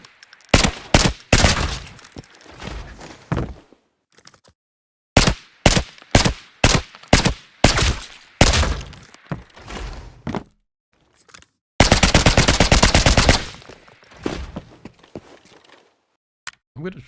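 Gunfire from a new weapon in the shooter game Arena Breakout Infinite, sharp loud bursts of rapid automatic shots in several clusters separated by silent pauses, with one long sustained burst near the end.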